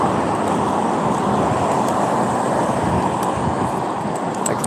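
Road traffic goes by in a continuous broadband roar, a steady wash of passing vehicles that stays fairly loud and even throughout with no speech.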